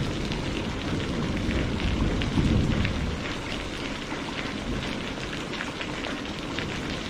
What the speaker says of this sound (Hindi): अरे भाई जरा ध्यान से जाना, बारिश बहुत तेज है।